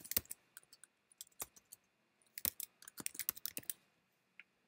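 Fingers type a name on a computer keyboard in a quiet room: uneven, crisp key clicks, sparse at first and then in a quicker flurry, close and clear with no talking.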